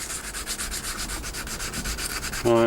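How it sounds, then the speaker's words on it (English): A coarse sanding stick wet-sands a plastic 1/48 scale F-14D Super Tomcat model wing in small circles, giving a quick, rhythmic, close scratchy rubbing with a brief tonal squeak at the end. "nice wet sanding with a coarse sanding stick"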